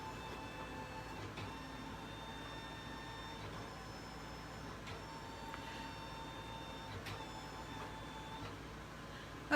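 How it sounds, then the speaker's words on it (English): Embroidery machine scanning fabric to place a design, a quiet steady mechanical whir with faint repeated tonal whines and soft clicks, close and low in level, ending in a short knock. "We're just going to scan it to place it. Okay, and it's going to scan."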